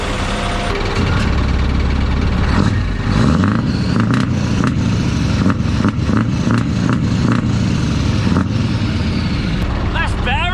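A truck engine fitted with a new side exhaust idles and rumbles loudly and steadily, with a few revs and rattles, while people talk over it.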